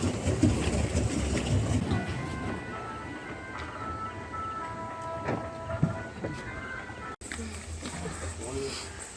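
Steady rumble of a sky train car in motion in Mettupalayam with faint tonal whine, a brief dropout near the end, and voices talking over the ride noise.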